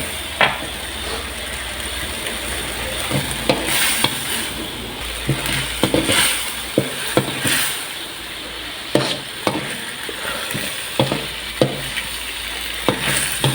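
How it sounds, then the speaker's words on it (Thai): Meat is stir-fried in a pan over a gas flame: a steady sizzle runs throughout, broken by repeated clinks and scrapes of a spatula against the pan, close and fairly loud, with no voices. "ผัดนะเดี๋ยวเนื้อมันเหนียว"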